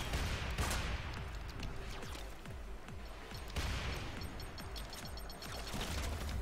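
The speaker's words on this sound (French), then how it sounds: "Les belles grenades corpus, j'adore." Corpus grenades and gunfire in the Warframe game, heard as rapid volleys of sharp cracks and blasts over a dense, continuous roar of combat, loud and unbroken.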